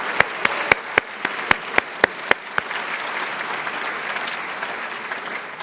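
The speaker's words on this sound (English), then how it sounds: "Let's give the commissioner one more round of applause." At the Texas LBJ School's 2023 graduation ceremony, a few sharp, separate claps ring out close by before the audience swells into steady, fuller applause. The clapping then continues at moderate volume until the end.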